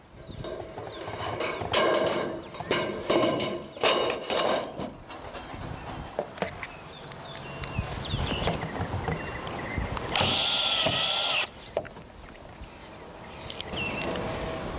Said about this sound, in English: The top cap is then centered over the peak of the roof and secured with Tek screws